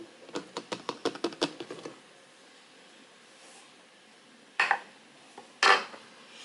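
Batter for German mini pancakes being whisked in a bowl, a quick run of about ten clinking strokes followed by a pause and then two louder, separate scraping knocks, close and with no voices.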